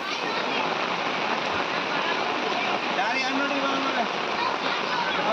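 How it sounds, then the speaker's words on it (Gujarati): Heavy cloudburst rain in Lath village, Upleta, pours down in a dense, steady roar that stays loud and unbroken throughout. "ત્રણ કલાકમાં ધોધમાર બાર ઇંચ વરસાદ ખાબકતા"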